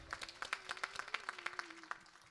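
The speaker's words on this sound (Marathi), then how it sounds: "एक बार या उठलेल्या पोरांसाठी टाळ्या वाजवा." A crowd claps for the young people who have stood up during a Marathi kirtan gathering, with quick, uneven hand claps sounding at a moderate distance and fairly softly, along with a faint sustained tone underneath.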